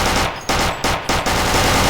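Submachine gun fire in a video game, several rapid automatic bursts in quick succession, loud and close.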